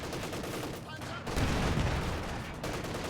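Sustained machine gun fire in Company of Heroes 2, a dense rattling burst that swells louder after the first second and keeps going under the battle din, with a commentator's voice faintly mixed in.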